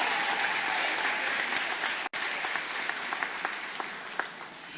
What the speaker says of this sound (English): Miss Zakiya Mitchell, let's give her another round of applause